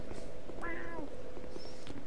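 Cat in the video game Dark Souls 2 gives a single clear meow, then a fainter second cry, set over a steady low background hum.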